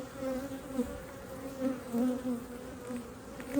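Honeybees buzz steadily at an open hive during an inspection, a close, continuous droning hum with gentle swells in loudness and no voices.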